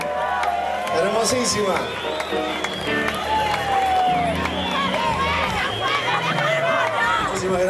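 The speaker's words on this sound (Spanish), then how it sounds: "ese aplauso para la reina, bien fuerte" Concert audience at a show in Arequipa applauding and cheering for the queen, a dense sustained roar of clapping and shouts with a voice speaking over it.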